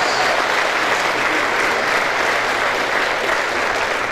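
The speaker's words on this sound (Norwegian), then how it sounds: "disse sangerne som skal stå på, de må få en ekstra varm klapp" An indoor audience at a Norwegian Christian gathering gives singers a warm round of applause, dense steady clapping that stays loud and even throughout.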